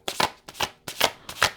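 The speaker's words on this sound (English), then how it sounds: "So we'll pull cards on that." Tarot cards being shuffled by hand, four quick riffling bursts in an even rhythm, close and crisp with no talking.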